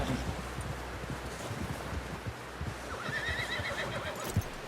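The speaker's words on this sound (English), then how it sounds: "Someone help John down off this horse." A horse in the Red Dead Redemption 2 video game whinnies loudly while its hooves clip-clop steadily across the ground, with faint wind and rustling behind, and nobody speaks.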